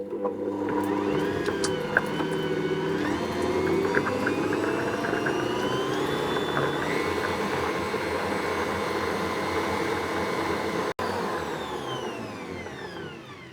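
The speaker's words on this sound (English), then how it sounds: "And then I'm going to whisk that to make it nice and fluffy." Electric hand whisk beating cupcake batter for salted caramel cupcakes, a steady whirring motor hum that runs continuously for over ten seconds, close and moderately loud, with the pitch wavering slightly as it works.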